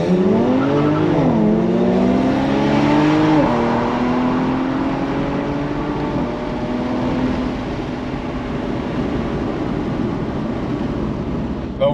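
A BMW 335is E92 coupe with the twin-turbo N54 engine and dual-clutch gearbox, a US-market car, drives along with a steady, loud engine drone that rises and shifts in pitch through gear changes, filling the cabin throughout.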